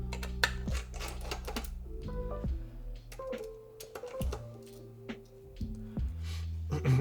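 Keys clack in quick irregular bursts on a Tofu TKL mechanical keyboard, close and fairly quiet, with steady tones underneath.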